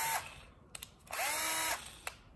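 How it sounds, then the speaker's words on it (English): A Milwaukee cordless drill whirs in two short bursts, spinning up and winding down, with a couple of clicks between runs. "The drill works."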